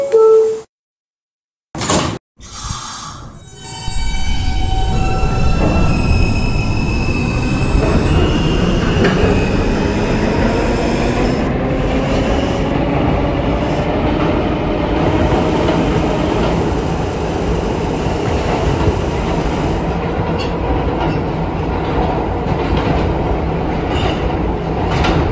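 A Roblox R160B Alstom subway train on the R line pulls away from a station, a few clunks and a door sound first, then a long, loud rising motor whine and rumble of wheels that builds and holds close by.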